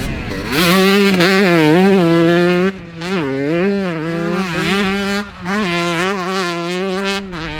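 A 2008 Kawasaki KX125 two-stroke motocross bike screams at high revs, its loud, buzzy engine note rising and falling through repeated throttle blips with brief dips between pulls, close and unbroken with no talk.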